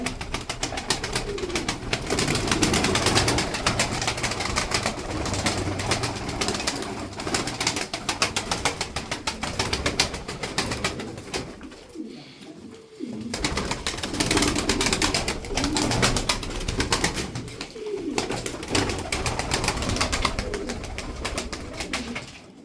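Tumbler pigeons coo steadily and loudly at close range, with a constant rustling flock noise throughout. The sound dips briefly in the middle.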